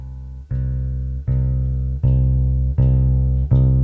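A deep bass guitar note plucked five times in a steady, even rhythm, each ringing and sustaining until the next, played alone and fairly loud.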